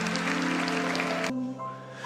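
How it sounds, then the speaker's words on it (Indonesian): Church congregation applauding during a sermon service, a dense wash of clapping hands over sustained music that stops abruptly partway through, leaving a quieter held tone. "Berikan tepuk tangan untuk Tuhan Yesus"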